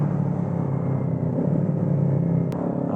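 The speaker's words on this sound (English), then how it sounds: "we got a Harley Davidson behind me. He's coming up pretty close" Harley-Davidson motorcycle riding close behind in traffic, a steady, loud low engine rumble that holds throughout with no pauses.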